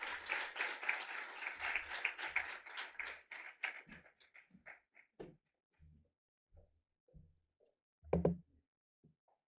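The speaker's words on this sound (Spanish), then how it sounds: "Le damos un aplauso entonces a Marisol." A crowd applauds at a university panel talk, with dense clapping that gradually thins out into scattered individual claps, with a brief final burst.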